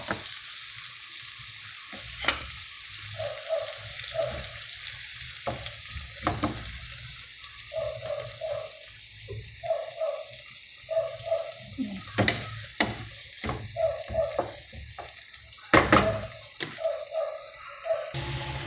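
Kimchi stir-fried in a pan for homemade kimchi fried rice gives a steady, close sizzle and crackle. Spatula scrapes and stirs land at irregular moments, with a few sharper clacks, and no one speaks.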